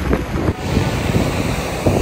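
A waterfall near Laguna Capri in Patagonia, in cold, rainy weather, gives off a dense, continuous roar, close and loud, with gusts of wind buffeting the microphone.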